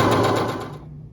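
A sewing machine runs in a short rapid burst while stitching a fabric coaster seam, a close mechanical chatter that slows and stops within about a second.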